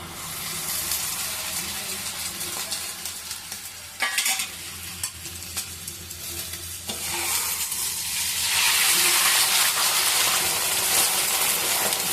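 Egg batter poured over roti in a hot pan sizzles steadily and builds into a louder, bright frying hiss toward the end, with brief clatter midway and no talk.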